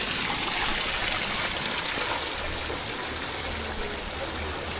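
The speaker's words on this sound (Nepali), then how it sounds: "खोला पनि त्यस्तो ठुलो खोला होइन रहेछ" A small jungle stream with clean water flows nearby, a soft continuous trickling and rushing wash, fairly faint and steady, with no talk over it.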